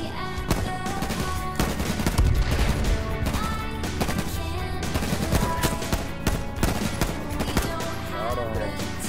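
Gunfire in a first-person shooter game after the player gets off a four-wheeler: rapid sustained bursts of shots, loud and dense, with continuous clatter under the din and no clear talk.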